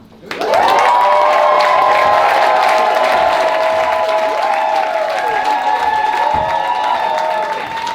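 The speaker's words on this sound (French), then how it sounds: "Et vous, normalement, vous les applaudissez." A cabaret audience applauds and cheers loudly and continuously, with whoops and shouts rising above the sustained clapping.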